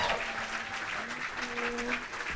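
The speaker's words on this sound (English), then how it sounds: "Please start clapping now." A live audience at a comedy podcast taping during a festival claps steadily, a dense wash of applause with some cheering filling the room.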